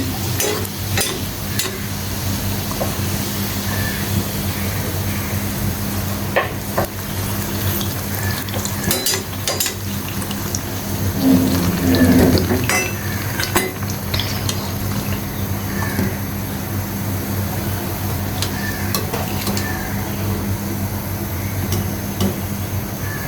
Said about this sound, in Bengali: এভাবে করে আমি সবগুলো লুচি ভেজে নিচ্ছি